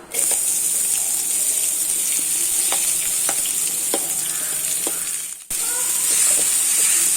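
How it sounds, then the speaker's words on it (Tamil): Oil sizzles and crackles steadily as finely chopped onions fry for bread masala, with occasional stirring scrapes and a brief dip in the sizzle partway through. "இப்போ வெங்காயம் நல்லா வதங்கிட்டு இருக்கு."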